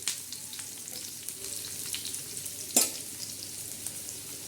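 Onions fry in a pan for a spicy black masala dish, a steady close sizzle with soft spatula stirring scrapes and one sharper clatter partway through, no voices.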